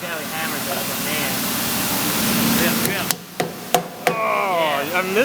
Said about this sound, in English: Look how he hammers it like a man.